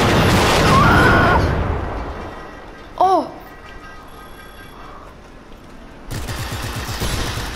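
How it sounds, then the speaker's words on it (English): Airstrike explosions in the video game Just Cause 3 roar as loud, rumbling bursts at the start. A short voice cuts in midway, then another heavy blast returns near the end. "Airstrike!"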